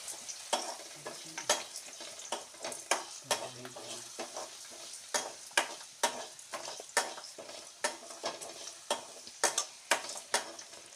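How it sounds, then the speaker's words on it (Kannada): Bitter gourd pieces soaked in salt and turmeric fry in oil with a soft steady sizzle, broken by regular sharp clinks and scrapes of a spatula stirring the pan, close and fairly quiet. "ಎಣ್ಣೆಯಲ್ಲಿ ಹಾಗಲಕಾಯಿ ಡ್ರೈ ಆಗಬೇಕು."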